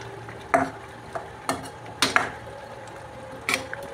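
Potato pieces stirred into a spicy brinjal and potato curry frying in a pan, a quiet sizzle under several sharp spoon scrapes and clinks against the metal, close by.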